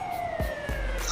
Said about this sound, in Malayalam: ആംബുലൻസ് വന്നിട്ടുണ്ട്